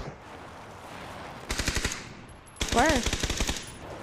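Automatic gunfire in an online multiplayer video game, two short bursts of rapid shots at moderate distance, with a voice briefly speaking between them.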